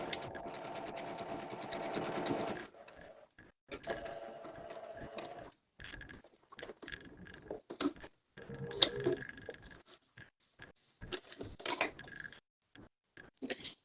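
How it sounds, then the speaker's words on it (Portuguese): Sewing machine backstitching fabric to stop fraying: a steady whirring run of stitches, then a series of short stop-and-start bursts, quiet and close. "Fazer um retrocesso para evitar de desfiar"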